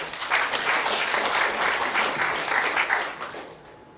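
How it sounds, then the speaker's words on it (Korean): Steady applause from a forestry seminar audience greets a speaker, dense clapping swelling quickly and holding before tapering off near the end. "박수 부탁드리겠습니다."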